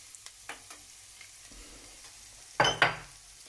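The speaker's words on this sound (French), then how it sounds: "dans un premier temps, faire suer nos échalotes" Shallots sweating in oil in a hot pan give off a short, close burst of sizzling near the end, after a quiet stretch of faint kitchen clatter.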